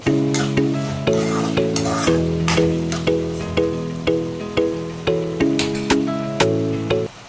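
Onions frying for crab curry, stirred with a ladle, giving a steady sizzle with regular scraping strokes, all playing under a prominent looping music track.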